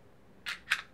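The trigger of a Smith & Wesson M&P Shield 9mm pistol resets with two quick, crisp mechanical clicks in close succession. They are close and fairly faint, in a quiet room with no talk.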